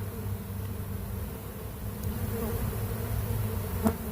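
A honey bee swarm marches into a nuc box, its dense, continuous buzzing hum filling the space close by with no voices.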